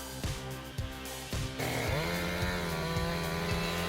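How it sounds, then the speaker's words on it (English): A Husqvarna chainsaw with a 50-centimeter bar cuts into an oak tree, revving in short bursts and then bogging into a long, loud, labouring drone under load, close by. "I quickly realized that the 50-centimeter bar on the Husqvarna was struggling a bit to get the job done"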